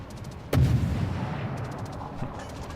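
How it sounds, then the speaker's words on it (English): Anti-aircraft gunfire in a naval battle video game: a sharp heavy gunshot bursts out, followed by rumbling and scattered distant shots, with rapid clicking fire in the background. "Anti-aircraft gun crews are on full alert."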